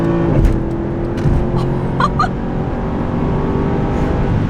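The naturally aspirated V8 of a Mercedes-Benz C63 AMG 507 Edition roars steadily nearby as it accelerates, a deep sustained drone with a few faint chirps and knocks over it.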